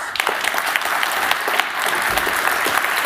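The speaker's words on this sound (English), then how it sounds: "Round of applause." An audience at an agile software conference gives a steady round of applause after a talk on acceptance test-driven development, dense clapping from many hands filling the room evenly for a few seconds.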